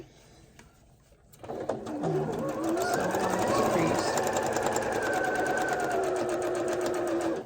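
A sewing machine stitches quilt pieces together, starting after a moment of quiet and then running in a steady, fairly close mechanical whir with a faint rhythmic tick throughout.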